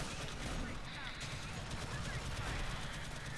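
Gunfire from the video game Alien Swarm crackles in rapid, dense bursts at moderate level, mixed with game effects and players talking over it.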